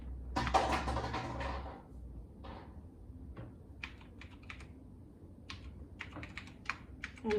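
Typing on a computer keyboard while coding on a Raspberry Pi: a quick run of key clicks, then scattered single taps and a few bursts of presses, close and clear, with no talk.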